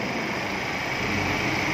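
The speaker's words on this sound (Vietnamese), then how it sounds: "Máy đang hoạt động đây, máy nổ rất là khô ráo." A 2019 Ford Ranger Wildtrak with automatic transmission runs at idle, a steady, even engine drone heard close up as a continuous wash of noise with no talk over it.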